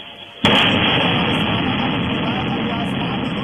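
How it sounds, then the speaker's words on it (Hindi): A sudden loud blast from an attack on Tel Aviv erupts, then settles into a heavy, sustained rumbling roar that slowly fades. "आकाश में धमाकों की गूंज सुनाई पड़ रही है।"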